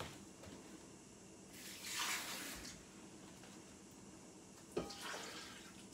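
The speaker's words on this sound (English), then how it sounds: "Finally, we are going to add some water." Water poured into a fruit smoothie blend with chia seeds and magnesium powder: two short, faint splashing pours a few seconds apart over quiet room hiss.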